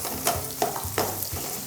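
Young radish and pork stir-frying with doenjang, sizzling steadily in the pan with a few clinks of stirring, close and fairly quiet with no talk.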